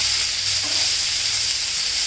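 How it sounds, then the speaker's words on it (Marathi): Chopped onion sautés in a hot pan with a continuous, even sizzle and hiss, close and fairly loud, with no voices. "कांदा घालून घ्यायचा. चांगला परतून घ्यायचा."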